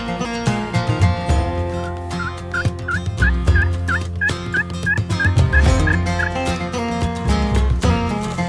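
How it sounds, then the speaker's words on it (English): A wild turkey gobbles repeatedly during a turkey hunt, loud and close, with quick rattling calls mixed among other busy layered sound. "I'm gonna call again, see if he gobbles again."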